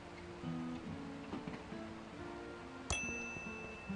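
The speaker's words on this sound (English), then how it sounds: "A bell for calling the sheriff. I mean, hotel manager." A hotel front-desk service bell in the adventure game Thimbleweed Park gives a single bright ding that rings on briefly over quiet background sounds.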